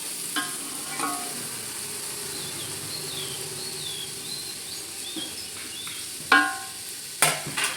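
Green chilies sauté in rendered chicken fat with a soft, steady frying hiss, broken by occasional sharp spoon clatters against the pan, near and without talk.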